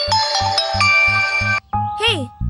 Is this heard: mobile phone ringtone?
yes